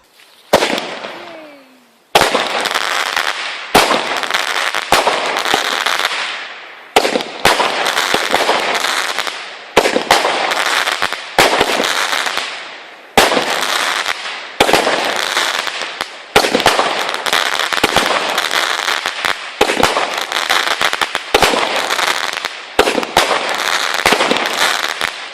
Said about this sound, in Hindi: इसके अलावा बाजा नवाजी के दौरान आतिशबाजी भी आम चलन बनती जा रही है।